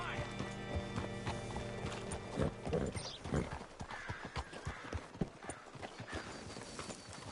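Horse hooves clip-clop steadily in a video game scene, with a horse whinnying near the middle and characters talking over the sound throughout.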